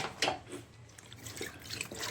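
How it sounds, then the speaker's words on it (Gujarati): Water pours and splashes into a pot, a close, quiet trickling with small gurgles, no voices. "આમાં પાણી એડ કરી નાખશું."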